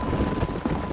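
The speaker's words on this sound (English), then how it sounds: "Look at these here horses." Horse hooves clip-clop in the Red Dead Redemption video game on PC, a quick uneven patter of steps close by over a dense, noisy ambient bed, with no voices.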